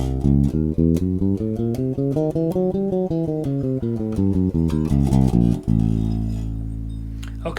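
A bass guitar plays the A half-whole diminished scale, one clear note after another, climbing and then descending, before ending on a long held low note, close and alone without talking.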